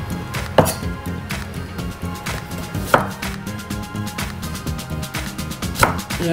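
A kitchen knife chops through an onion on a cutting board, giving sharp, close knocks at an uneven pace with three louder strikes standing out over a faint background hum.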